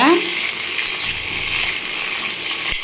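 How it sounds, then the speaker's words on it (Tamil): Turkey berries (sundakkai) sauté in sesame oil with a dense, loud, continuous frying hiss, close up, with light rattling and a sharp clack near the end. "நல்லா சுண்டைக்காய் இப்படி வதக்கி எடுத்துக்கோங்க"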